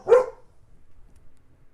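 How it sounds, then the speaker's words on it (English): A dog indoors gives a single sharp bark, loud and close, followed by near silence. "you have dogs in the house so they don't freeze. They bark at everything that goes by"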